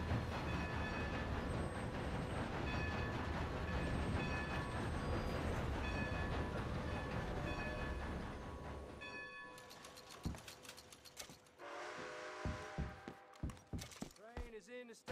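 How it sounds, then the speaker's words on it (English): A video game train stands in a station: loud rumbling and hissing with tonal whistle-like overtones, then quieter clanks and knocks as it settles. "Train is in the station. All aboard."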